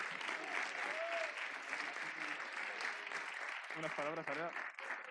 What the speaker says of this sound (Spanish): Fuerte aplauso, por favor, para Valera.